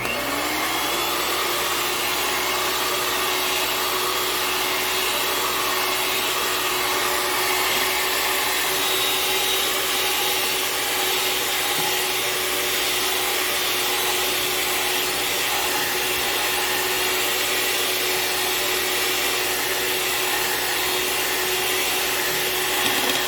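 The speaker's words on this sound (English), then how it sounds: "And let's start mixing it again." An electric hand mixer whirs continuously through cake batter with vanilla extract, a steady, loud motor drone with faint scraping texture that never pauses.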